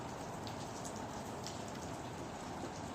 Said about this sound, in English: And over here at my house is actually a combination of snow and hail.